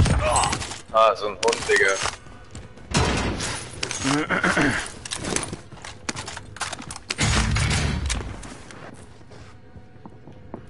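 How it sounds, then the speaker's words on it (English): Bursts of gunfire in the online shooter Call of Duty: Warzone, broadband cracks and volleys crowding the first half and returning near the eight-second mark, mixed under excited players' voice chat and fading to quiet at the end. "Under fire!"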